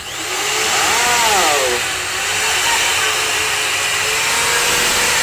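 A loud, steady motor whine from a power drill running off a solar inverter runs throughout, with a brief exclaimed voice near the start.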